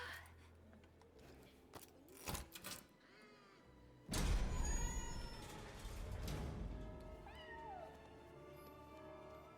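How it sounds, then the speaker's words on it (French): A magic stray cat in the video game Split Fiction meows several times, bright rising mews over game music and effects, with a loud burst of game sound in the middle. "Voilà un chat."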